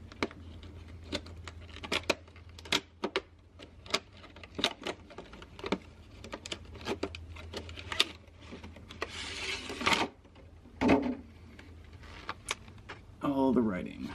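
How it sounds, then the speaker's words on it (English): JDM car parts being unpacked from a package: repeated sharp rustles, crinkles and scraping handling noises in bursts, close and moderately loud, with a low steady hum underneath. "So let's open up some cool JDM stuff."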